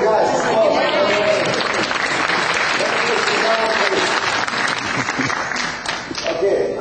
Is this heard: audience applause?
yes